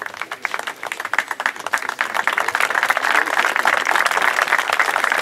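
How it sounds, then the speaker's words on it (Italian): An audience applauds for a municipal councillor presenting an award at a peace prize ceremony, with dense, steady clapping from many hands that builds slightly louder and holds to the end, while a voice speaks faintly beneath. "Ci voleva la standing ovation perché viene da lontano"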